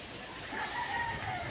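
A chicken gives a brief, drawn-out call at a distance, faint over a soft outdoor background.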